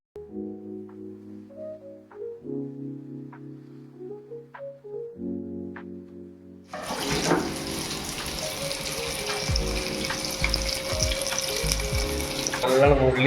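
Tap water runs steadily into a sink while soaked rice is strained, a loud continuous wash of splashing. It starts partway through, after a quieter stretch of clinking and handling, and keeps going to the end.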